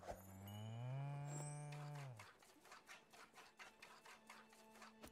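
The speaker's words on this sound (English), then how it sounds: "Milk cow." A cow moos once, long and tonal, as it is milked in the video game Spiritfarer, followed by a quick run of soft rhythmic clicking game sounds.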